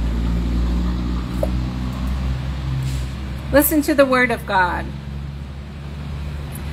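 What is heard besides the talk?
truck going by outside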